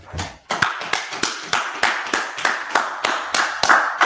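A single person claps steadily in a slow, even rhythm, about a dozen sharp, close claps spaced roughly a third of a second apart, with nothing else heard.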